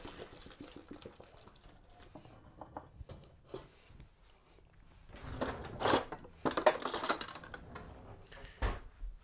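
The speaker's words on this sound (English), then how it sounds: "I've cooked up a little penne. We're going to drain that right now." Cooked penne pasta tipped out to drain, with clattering pot and metal sounds plus brief splashy rushes of water building toward the end, close by with no talk.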